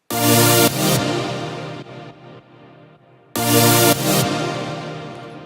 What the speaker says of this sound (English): And then the next sound we have is our super saw.